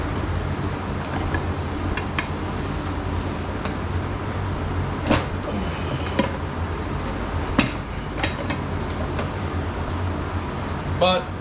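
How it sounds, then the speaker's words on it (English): Sparse metallic clanks and knocks come from a Harbor Freight manual tire changer as a street tire is worked onto a 6-inch mag wheel for a Go Power Sport. The clunks are scattered over a low background hum. "This is the Harbor Freight cheap tire changer."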